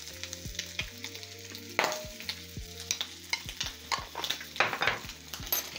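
Bacon frying in a pan for a breakfast sandwich, a steady sizzle with scraping stirs and clinks of utensil against the pan, close up and without talk.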